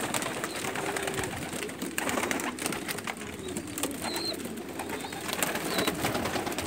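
Pigeons cooing inside a room in Umluj, Saudi Arabia, soft repeated coos over a steady rustling background with occasional wing flutters, fairly faint and without voices.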